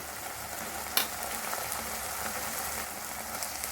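Turmeric, garam masala, chili powder and coriander powder frying in a pan for a bhindi gojju, a steady soft sizzle with one sharp clatter near the start.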